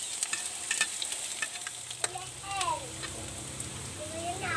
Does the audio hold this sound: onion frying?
yes